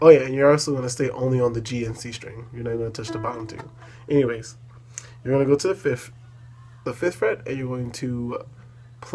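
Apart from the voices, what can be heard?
No everyday noises stand out.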